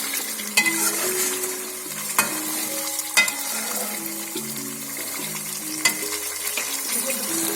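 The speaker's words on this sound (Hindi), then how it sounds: "प्याज और लहसुन के साथ जब बीफ फ्राई होगा तो बहुत ही मज़े का टेस्ट बनेगा" Beef frying in a pan with onion and garlic over a medium flame, with a steady sizzle, occasional stirring scrapes and clinks, and background music playing throughout.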